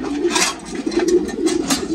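A racing pigeon coos close by in soft, throaty, repeated rolling calls, several short bursts over a quiet background.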